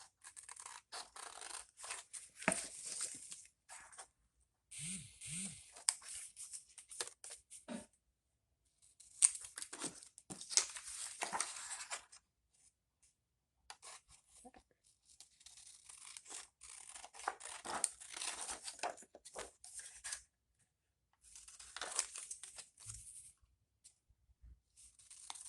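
Scissors snip and slide through paper while cutting out napkin holder shapes, short bursts of crisp cutting and rustling separated by quiet pauses, close and fairly soft, with no talking.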